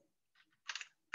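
Typing on a computer keyboard during an online meeting: a few faint, quick clusters of key clicks with short pauses between them, no talking.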